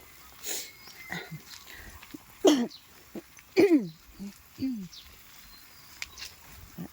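Several rough coughs and throat clearing bursts, close and loud, separated by quiet pauses.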